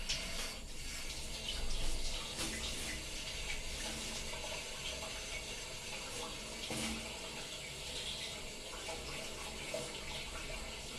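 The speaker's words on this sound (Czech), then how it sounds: "Teď jsem tam přilil vodu" Water poured into a blocked floor drain that will not empty, a steady broadband splashing and trickling close by, continuous for the whole stretch with one brief louder gush early on and no talking.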